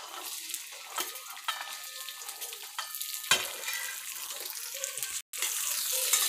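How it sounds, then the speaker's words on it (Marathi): Cluster beans (gavar) frying in hot oil in a kadhai, giving a steady close sizzle broken by scraping stirs and clinks, with a short gap near the end. "आता ह्या शेंगा व्यवस्थित भाजून घ्यायच्या"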